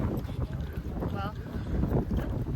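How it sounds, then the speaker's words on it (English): Strong wind buffets the microphone at the coast in Morro Bay, a continuous low rumbling gust noise with voices talking faintly underneath. "it is windy."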